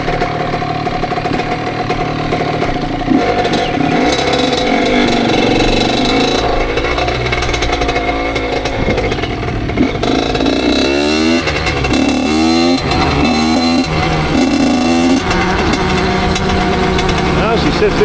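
A Honda CR85 two-stroke dirt bike, freshly rebuilt with a Wiseco kit, runs loud and close on its break-in ride, revving up and down through the gears with a raspy, buzzing engine note throughout.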